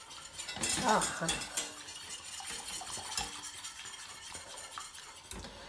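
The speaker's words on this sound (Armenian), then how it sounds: "ու մի լավ կխառնեմ, մի լավ կխառնեմ, որպիսի եփվի, դառնա լավ թանձր" A spoon stirs a thickening batter-like mixture cooking in a pot, giving steady scraping and clinking against the metal with a faint sizzle, close and moderately loud, with a brief voice near the start.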